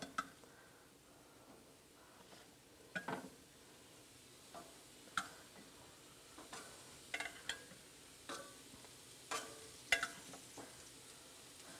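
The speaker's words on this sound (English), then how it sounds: "Get a nice sizzle on these onions." Onions sizzle softly in a hot pan, a low steady hiss dotted with scattered small pops and clicks.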